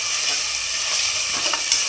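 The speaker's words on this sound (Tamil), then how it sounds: "இது கொஞ்சம் இந்த எண்ணெயிலே வணங்கணும். இப்போ வந்து இஞ்சி பூண்டு நல்லா வணங்கிருச்சு." Ginger and garlic sizzle in hot oil in a pan, a steady close frying hiss with light stirring scrapes and no talk.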